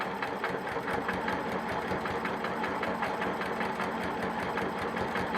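A sewing machine runs steadily through free-motion quilting, stitching pebbles around a star on a patriotic quilt, with a continuous fast needle chatter and motor hum close up and no pauses.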